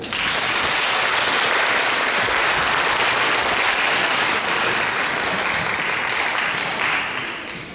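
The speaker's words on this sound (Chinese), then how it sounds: "请来宾们给文化中心的工作人员一个掌声" An audience at a joint junior high school concert applauds the cultural centre staff: sustained, dense clapping from a full hall that holds steady for several seconds, then begins to thin out near the end.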